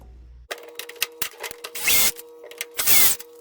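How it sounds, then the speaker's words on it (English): Screws being backed out of an LG dryer front panel, a close power driver whirring in short bursts, two longer and louder runs standing out among quick clicks and buzzes. "you'll remove the 2 screws that are right in here"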